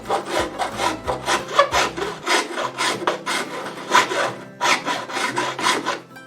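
Rapid rhythmic rasping of a round chainsaw file working wood on a lawn tractor to make a spot for a horn button, close and loud with quick repeated strokes.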